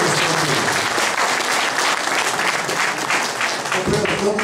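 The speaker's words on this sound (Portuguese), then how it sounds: "eu solicito a todos da plenária uma salva de palmas" Sustained applause from a plenary assembly audience, a dense, steady wash of clapping hands that fills the room, with faint talk underneath and a brief low rumble near the end.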